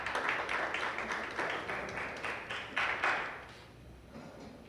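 Audience applause at the national debate competition final, following a contestant's introduction; dense, fairly faint clapping that holds steady, then thins and fades toward the end.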